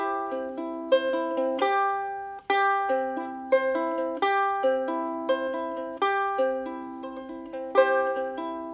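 Ukulele playing a basic fingerpicked arpeggio at a quick pace, clear plucked notes cycling in a steady repeating pattern, close and alone with no talk.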